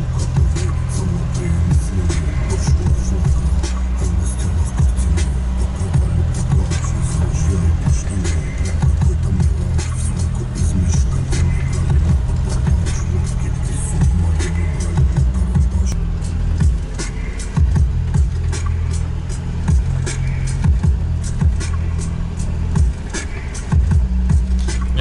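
A car drives along rough rural roads in Karelia, Russia, its steady low engine rumble and road noise continuing throughout the clip, loud and close, with no talk over it.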